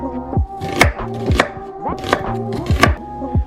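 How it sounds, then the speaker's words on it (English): Knife chopping an onion on a cutting board, a series of close, loud, distinct chops in an uneven rhythm with no talking. "No, I'm gonna make Cami cut up this onion because she hates cutting up onions."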